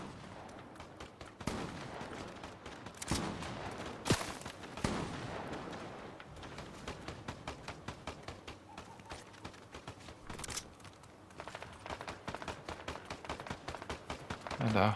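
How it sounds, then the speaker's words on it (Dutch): Gunfire in a Fortnite Chapter 4 Season 4 match, rapid bursts and single sharp shots scattered throughout, fairly close and loud, with a voice talking in Dutch over the game. "Ah, die ziet de schoten hier ook al vliegen."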